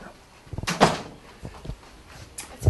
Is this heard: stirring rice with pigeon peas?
no